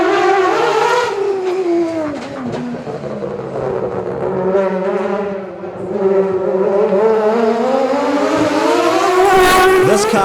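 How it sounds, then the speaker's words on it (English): A Mazda FD RX-7 race car with a Green Brothers 20B three-rotor rotary engine and Link ECU screams along a time-attack track at a street motorsport festival, its loud buzzing note rising and falling through gear changes, close and sustained. "the beautiful sound of the Link ECU Mazda FD RX-7. Green Brothers 20B Rotary, Andy Duffin at the wheel."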